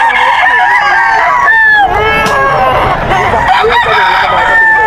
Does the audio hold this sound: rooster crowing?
yes